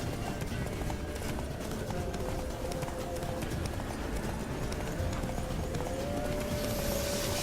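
Roach the horse gallops in The Witcher 3, a fast, steady clip-clop of hooves running continuously throughout, loud and close, with faint game ambience underneath.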